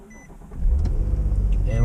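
A Nissan Maxima engine cranks and catches, its low rumble swelling after a brief quiet start and settling into a steady, loud idle close by.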